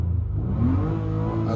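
A 2019 Nissan Pathfinder's 3.5-liter V6 engine revs up with a rising mid-pitched whir, steady and fairly loud, heard from inside or near the vehicle with no talking.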